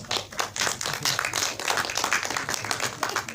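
Applause from a press conference crowd at a film cast announcement, dense overlapping hand claps sustained throughout at steady loudness, with no talk over it.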